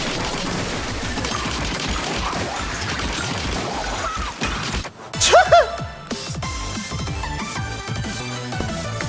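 Dense rapid explosions and splattering bursts in the video game Splatoon 3 Side Order, loud and continuous, with a sharp burst of crashes near the middle before the barrage resumes.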